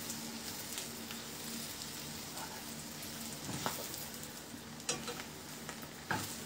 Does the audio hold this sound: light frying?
yes